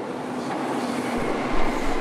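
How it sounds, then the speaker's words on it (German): Berlin U9 U-Bahn train pulling out of a station after its doors close, a steady loud rumble of the running carriages with a low motor surge toward the end, no voices. "Bei unserer U-Bahn schließen sich nun die Türen und wir verlassen den U-Bahnhof."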